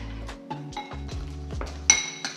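A utensil scrapes and clinks against a bowl while flour and cinnamon are stirred together for a coffee cake, a series of irregular close taps and rubbing strokes, with one sharper clink near the end.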